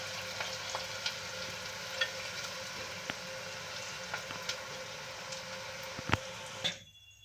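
Onion frying in a pan after cumin seeds have reddened in oil, a steady close sizzle with a few soft stirring clicks and taps, ending abruptly.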